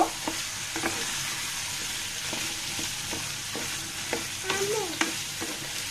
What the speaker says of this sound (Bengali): এই পর্যায়ে কাঁকরোলটা দিয়ে আমি নাড়াচাড়া করে দিব।